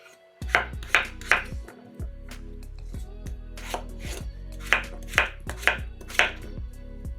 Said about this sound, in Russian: 2 очищенные картошки нарезаем кусками.